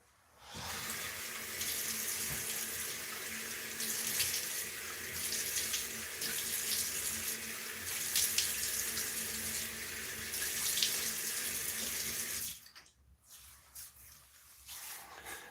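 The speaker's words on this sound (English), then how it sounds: "I'm going to just quickly get some water going here and a pre-shave" Cold water runs steadily from a tap into a sink before a shave, a continuous close splashing stream that stops abruptly near the end, leaving a quieter tail.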